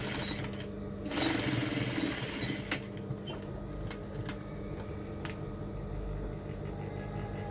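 A sewing machine stitches a long cap made of fabric, with a steady mechanical whirr and brief stops and restarts, close by and without any speech.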